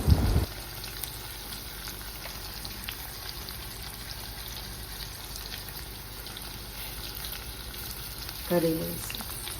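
A medium onion fries in oil for tomato rice, giving a constant, even sizzle close by, with a clatter at the start and a short stir or scrape near the end.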